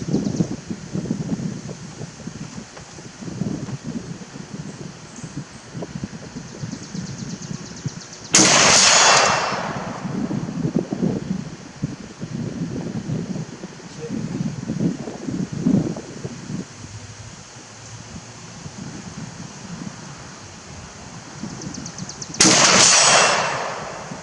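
Two sharp, loud rifle shots from an Albanian SKS crack out far apart at an outdoor range, with steady wind rumble and rustling between them.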